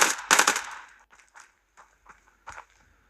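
A rapid burst of loud gunfire sounds first, followed by a few sparse, fainter shots and clicks, in the video game Standoff 2.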